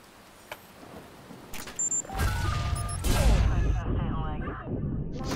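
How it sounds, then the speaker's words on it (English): Explosions from a delayed second bomb detonation in an Xbox Series X/S game boom loudly in quick succession, with a deep low rumble and crackling debris trailing off. "we're going to try this again with a little bit later detonation of the second bomb"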